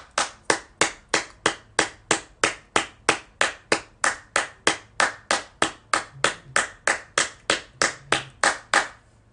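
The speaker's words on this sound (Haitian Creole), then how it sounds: "bat bravo pour la jeunesse" A single pair of hands clapping slowly and steadily, about three claps per second, sharp and close for the full length with no voices, as applause for the youth.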